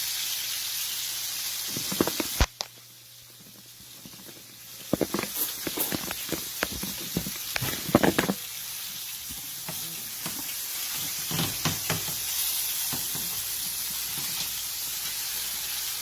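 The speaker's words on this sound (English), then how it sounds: "we're gonna let those finish searing a little bit" Lamb chops searing in grapeseed oil in a pan give a constant close hiss and sizzle, broken by scattered clatters and bumps of handling, with no talk over it.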